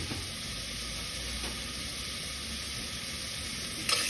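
Chopped onions and four cloves of garlic softening gently in a pan for a creamy zucchini soup, giving a steady, even sizzle that holds close and constant throughout.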